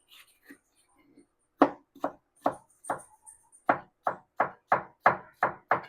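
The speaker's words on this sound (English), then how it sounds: "All right, so I got all my bell peppers cored and de-seeded. I am going to cut them up." A knife chops cored, de-seeded bell peppers on a cutting board into medium-small pieces. About a dozen crisp, evenly spaced strikes quicken into a steady rhythm after a few quiet taps.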